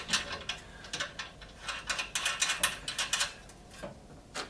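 Metal nuts being tightened onto bolts while assembling a Hyundai HYT140 petrol garden tiller, giving quiet, close, quick ratcheting clicks in short irregular bursts.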